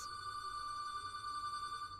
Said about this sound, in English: Phone call, everyone.